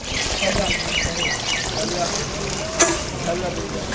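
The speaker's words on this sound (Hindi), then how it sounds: "अब नाला को हम लोग पानी से भर देते हैं।" Water pours and trickles steadily to fill a channel in a kitchen garden bed, with a continuous splashing flow close by and one sharp clink partway through.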